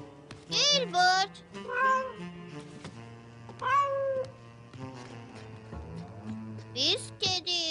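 Children's voices mimic cat meows, several rising and falling mews in a row with a steady low hum underneath.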